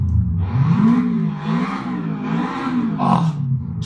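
A Seat Cordoba WRC rally car engine in a racing video game mod, loud and close, its pitch rising and falling in repeated revving surges as the car accelerates and eases off.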